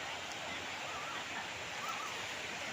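Steady broadband rush of a river flowing in Liliw, Laguna, heard from nearby as a continuous soft wash with no breaks.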